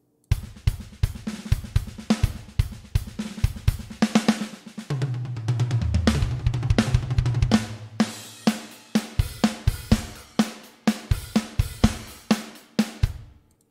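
SSD5 drum MIDI tracks play back in Reaper as a steady beat of kick, snare and cymbal hits, crisp and close, with a busier fill in the middle and no talking.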